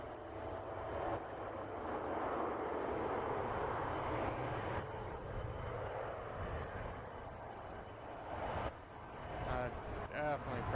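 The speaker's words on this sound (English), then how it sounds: "This is United Airlines, Boeing 787 Dreamliner," United Airlines Boeing 787 Dreamliner jet airliner at San Francisco Airport, a broad steady engine roar heard outdoors at some distance, with someone talking over it.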